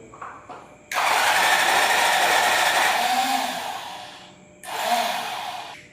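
A vehicle engine in second gear holds a steady, loud drone for several seconds, dips briefly, then swells again, close by with no talk over it.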